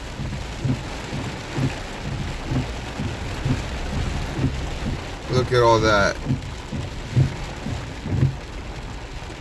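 Hard rain drums on a car while driving, a steady dense patter with a brief louder burst midway, and someone speaks briefly over it.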